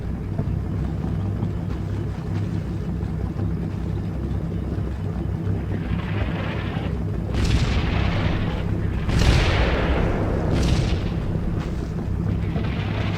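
Artillery shells striking buildings in Combat Mission Rome to Victory, several heavy booming impacts in the second half over a constant low rumble of battle, mid-distance and loud.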